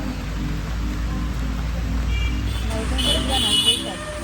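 Steady rain pours down outdoors, a continuous broadband hiss of drops that holds evenly throughout, with faint voices and a bit of street traffic in the background.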